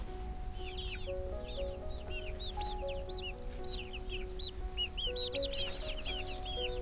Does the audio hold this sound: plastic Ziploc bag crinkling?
no